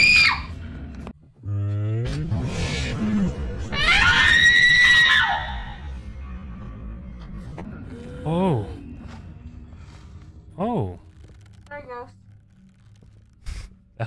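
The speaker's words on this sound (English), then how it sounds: "That's a good scream, honey." A person screams in long, high, wavering bursts with shrill squeal-like peaks, interspersed with talking and quieter gaps, near and loud at times.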